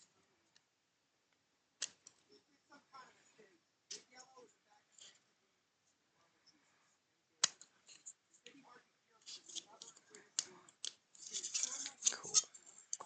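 Hobby cutters snipping parts off the runners of a Toyota AE86 Trueno Project D model kit: sparse, close, crisp clicks and snips spread across the span, growing busier toward the end, with quiet speech between cuts.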